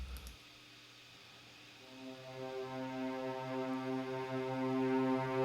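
A cello from an orchestral sample library holds long sustained notes, entering softly after a brief low thump and swelling gradually louder, rich in harmonics, with no talking.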